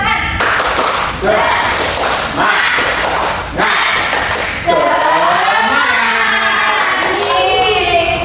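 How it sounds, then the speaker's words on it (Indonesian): A primary school class performs a rhythmic 'tepuk semangat' group clap, with sharp, loud unison claps in short bursts, followed by excited children's voices and a teacher talking. "ayo kita tepuk semangat dulu ya"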